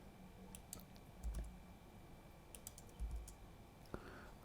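Quiet, close computer mouse and keyboard clicks while selecting and deleting sequences in genome-analysis software, a few scattered sharp clicks over a low room hum, no talk.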